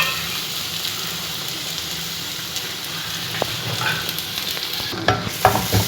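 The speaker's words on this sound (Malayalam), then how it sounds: "നൈസാക്കി അരിഞ്ഞ് കൊടുത്തിട്ട് നന്നായിട്ട് നമുക്ക് ഇളക്കി കൊടുക്കാം" Finely sliced onions fry in a pan for a restaurant-style chicken vindaloo sauce, a steady close sizzle with scraping stirring strokes and a few sharper clatters near the end.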